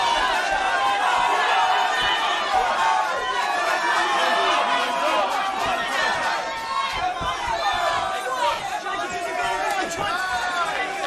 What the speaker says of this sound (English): The crowd roaring behind their man now